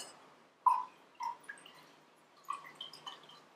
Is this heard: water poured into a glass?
yes